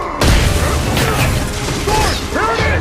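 Explosive charge detonating in a video game: a sudden loud boom lands, then crashing debris and mechanical clatter fill the short stretch afterward.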